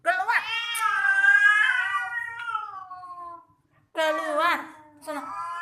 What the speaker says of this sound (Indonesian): ini kucing nggak mau keluar lagi, berantem di rumah.